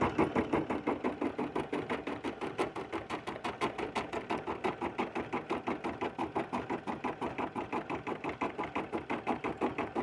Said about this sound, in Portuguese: Eu vou deixar a máquina bordando